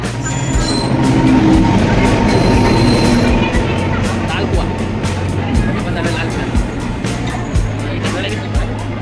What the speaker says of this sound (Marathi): हे आहे आपलं Borivali railway station, platform number 8.